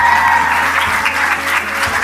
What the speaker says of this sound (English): Let's give Mara a round of applause.